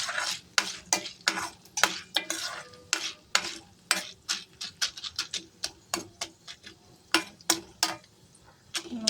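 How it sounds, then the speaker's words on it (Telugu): Popcorn kernels popping in hot ghee in a covered pot: irregular sharp pops and ticks, scattered and quickening, close and crisp with a faint sizzle underneath. "కొంచెం చిట్టపట్టలాడే సౌండ్ స్టార్ట్ అయింది ఫ్రెండ్స్"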